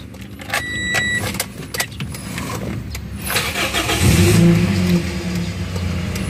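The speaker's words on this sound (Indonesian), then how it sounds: "kita coba hidupin mobilnya." A car with a freshly installed battery cranks and fires up, its engine catching after a few seconds and settling into a steady idle close by, with faint clicks and clatter beforehand.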